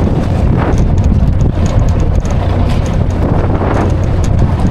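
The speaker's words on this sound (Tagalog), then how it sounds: "lumalakas na yung alon at saka hangin mga bay" Strong northeast monsoon (amihan) wind on an island buffets the microphone in a steady, loud roar with gusty surges and no talking.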